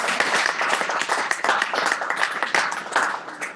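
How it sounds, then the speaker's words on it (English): A church congregation applauds during a worship service, dense continuous clapping that fills the room, steady and fairly loud without pause. "go ahead and clap"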